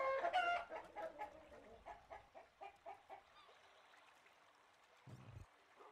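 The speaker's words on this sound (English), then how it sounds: "I think I have 14 chickens." Chickens in a backyard flock cluck in a quick series of short calls, loud at first and then fading to softer clucks, with a brief low thump near the end.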